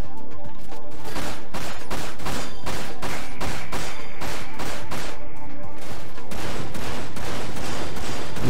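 Rapid, loud rifle gunfire in Dirge of Cerberus during a limit break, with dense, continuous bursts of shots firing faster than normal and no talk.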